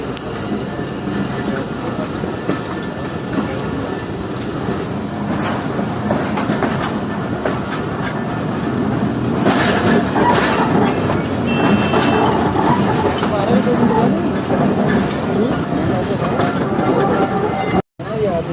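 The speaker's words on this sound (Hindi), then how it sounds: "ट्रेन अब लूप लाइन से मेन लाइन पर आ चुकी है" Jaffer Express passenger train rolling from a loop line onto the main line on a single-line route, a steady loud rumble of wheels on rails with faint clatter, heard from on board with people talking over it.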